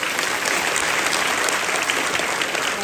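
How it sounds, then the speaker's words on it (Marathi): Dense, steady applause from an audience at a Ganesh mandal Home Minister game show event in Maharashtra, many hands clapping continuously and loudly throughout without any talk. "टाळ्या वाजवा"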